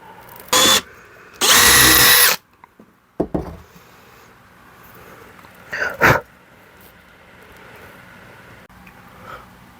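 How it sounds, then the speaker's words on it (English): A power drill with a 3mm brad-tipped bit boring holes for drawer pulls on an old drawer unit, two loud bursts of drilling followed by shorter, quieter drill runs and light handling noise. "I'm just going to drill those holes for the draw pulls."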